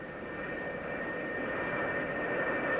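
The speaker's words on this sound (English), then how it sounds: "the deck director signals the pilot to run his engines up to takeoff power" An F-4 Phantom's jet engines spool up to takeoff power on an aircraft carrier deck, a broad roaring rush with a high whine that swells slightly louder over a few seconds, heard from a distance.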